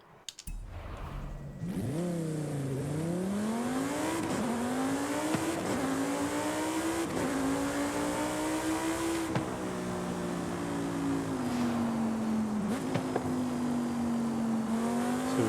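A racing car engine in the video game Forza Horizon 5 revs and climbs through the gears, its pitch rising and dipping with each shift, loud and continuous for about fifteen seconds with no talk.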